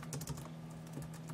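Quick, soft tapping on a tablet keyboard, a short run of light keystrokes heard close up over a faint steady hum.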